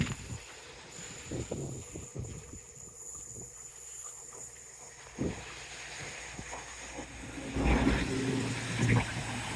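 A Voyager train runs along the seawall at Teignmouth beside the seafront and beach, its rumble and rail noise steady and moderately close, swelling near the end.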